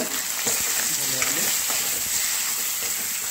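Fish sizzling as it fries in a pan with turmeric in an Assamese village kitchen, a steady close crackle with a few stirring scrapes.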